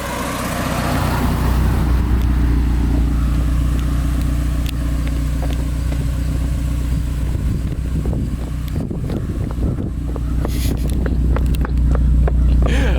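A car rolls through a turn with a broad, steady engine rumble and heavy wind buffeting on the microphone, the motor note rising near the end while faint voices sit underneath.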